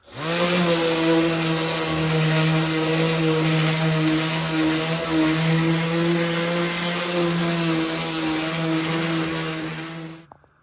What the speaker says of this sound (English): So I'm pretty much gonna sand these like 2 or 3 more times.